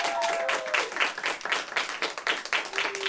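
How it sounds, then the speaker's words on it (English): Applause on a radio show greeting the band Social House as they enter, a steady round of clapping with a few brief tones drifting faintly through it. "Let's give them a round of applause"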